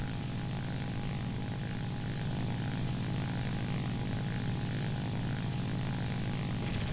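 A Japanese Ki-61 propeller fighter engine in War Thunder gives a loud, continuous, close droning roar with a steady rhythmic throb that holds throughout, with no voices over it.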